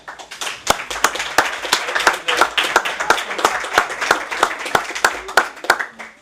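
An audience in a municipal council hall claps for the municipality's athletes, a moderately sized group whose sharp, uneven hand claps build into steady applause and keep going without any talk.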